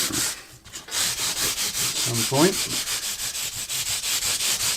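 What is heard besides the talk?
fine sanding block rubbing guitar frets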